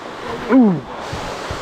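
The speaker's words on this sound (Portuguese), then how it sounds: "essa aqui é a primeira cachoeira do Parque Estadual, que é a das Andorinhas." The Andorinhas waterfall in a canyon in a Paraná state park gives off a steady, distant rush of falling water. A brief voice-like call rises over it.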